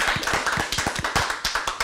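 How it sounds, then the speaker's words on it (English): Parents and guests at an elementary school quarter awards ceremony give the scholars a round of applause, with loud, close hand claps in an uneven, rapid patter throughout. "Let's give all of our scholars a great round of applause."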